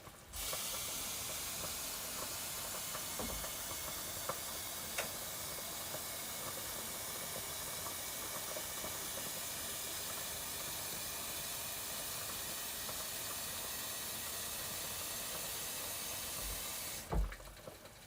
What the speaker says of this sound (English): So if you hear a kettle, that's correct. You're hearing a kettle.